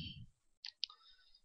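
Two sharp, quiet mouse clicks spaced close together, near and isolated after a brief trailing voice.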